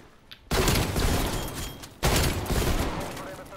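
Two loud, close gunshots fire about a second and a half apart, each a sharp blast with a long noisy tail.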